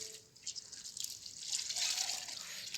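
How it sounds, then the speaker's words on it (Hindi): Water drips and splashes as clothes are washed by hand in cold water in a village, a steady wet trickle that grows slightly louder toward the end. "धोने पड़ रहे ठंडे पानी से कपड़े"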